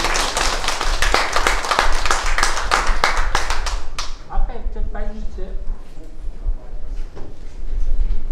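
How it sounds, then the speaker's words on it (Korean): An audience at an art exhibition award ceremony applauds in crisp, close hand claps for about four seconds, then the clapping stops and a person speaks. "네, 박수 드립니다."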